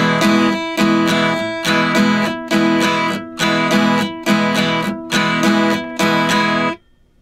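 Acoustic guitar strumming Latin-style chords in a repeating down-up pattern, eight bright full-chord bursts in steady rhythm, close and loud, ending in a short silence.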